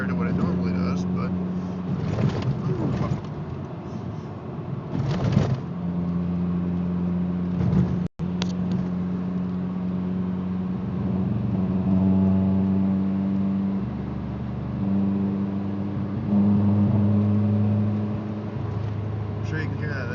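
A car with an engine misfire and timing belt vibration rumbles and pulses as the throttle is lightly pressed, a low uneven drone that rises slightly in pitch, with someone talking over it and a sharp click partway through.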